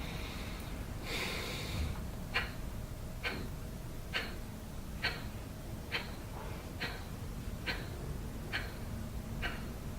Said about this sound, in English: You listen my sound? It is breathing.